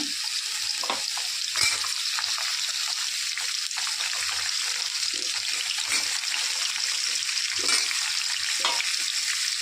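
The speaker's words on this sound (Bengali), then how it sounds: "ভাজতে দিয়েছি আলু আর চিংড়ি মাছটা ভেজে নিয়েছি" Potatoes frying in a pan give a steady, fairly loud hiss of oil with faint clinks of stirring scattered through, no voices.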